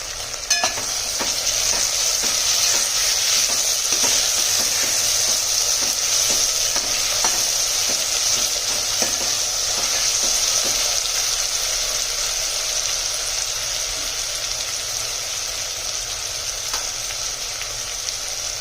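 A loud, continuous sizzle of ginger and tomato frying in oil, with rapid stirring taps in the first half that thin out as the hiss carries on.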